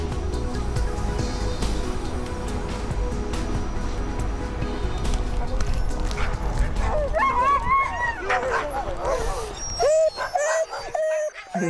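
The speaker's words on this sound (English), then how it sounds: "The huskies are in harness and know they're about to leap off into the frozen wastes with a sledge in tow." Arctic huskies in harness, eager before hauling a sledge, break into a chorus of barks, yips and whines that rises toward the end, with speech heard over the earlier part.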